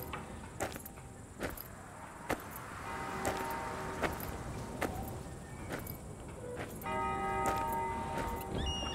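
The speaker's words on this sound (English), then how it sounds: "we are starting to hear the church bells." Church bells in a game audio project toll at a steady, slow pace against a noisy outdoor background, with a higher ringing tone joining in toward the end.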